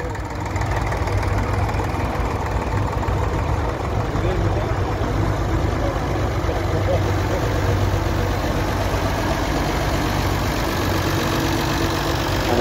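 A vintage tractor, a 1976 135 model, runs steadily at the Strathaven Show with a loud, continuous low engine drone and no pauses, close by throughout.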